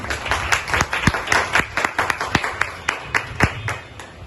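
An audience claps at a Hindi poetry recital at a community society event: lively applause with many sharp, close individual claps standing out above the crowd's steady patter.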